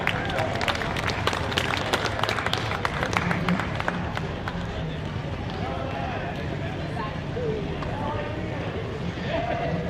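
Audience applause at the Ironstone Concours d'Elegance car show, a dense crowd clapping steadily close by for several seconds with scattered louder claps early on, over a general outdoor crowd murmur.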